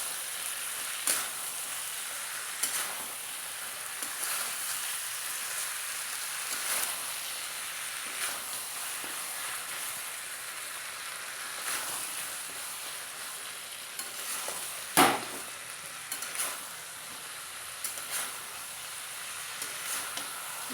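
Fish and hill prawns frying in hot oil make a steady, even sizzle throughout, broken by a few brief clatters of stirring, with no talking.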